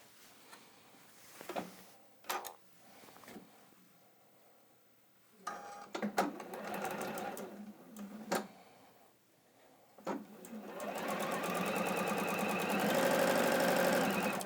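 A Juki NX7 sewing machine stitches a fabric seam, starting with short bursts of mechanical whirring between pauses and clicks, then running faster in a steady, continuous chatter toward the end.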